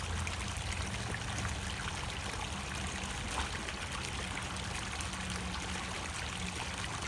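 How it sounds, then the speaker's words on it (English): A stream of water flows nearby with a steady, continuous rushing and trickling that stays at an even level throughout. "I can't exactly stand down here because it's all water."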